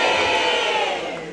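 A crowd at a local Corrida talent show in Castri di Lecce shouts together in one loud burst of group cheering that fades slightly at the end.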